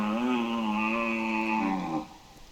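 A red deer stag in the hunting game theHunter Classic lets out a single long, loud, harmonic bellow at close range, held steady for about two seconds before it breaks off into quiet.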